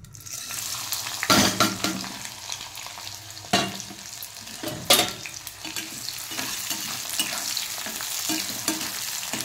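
Tempering spices with mustard seeds, cumin, green chillies, onions and garlic fry in hot oil, a loud steady sizzle punctuated by a few sharp spatula strikes and scraping stirs against the pan.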